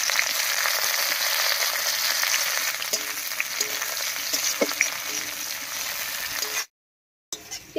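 Chopped onion frying in hot oil with whole cumin seeds and a bay leaf, a steady, close, dense sizzle with small crackles that runs unbroken before cutting to a brief silence near the end.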